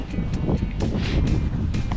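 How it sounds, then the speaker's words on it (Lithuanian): Steady, blustery wind buffets the microphone with a constant low roar, loud and close, with no pauses. "Vėjukas pakilė stipriai."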